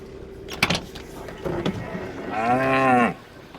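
Cattle and calves being herded through a gate on a farm during drought-breaking rain, with one long, close moo rising out of clanking and knocking noises.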